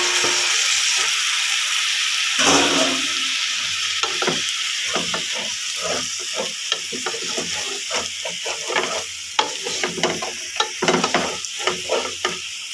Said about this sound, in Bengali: এরপর দিয়ে দিচ্ছি ভেজে রাখা মুরগিগুলো